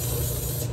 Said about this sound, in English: you're gonna spray your microfiber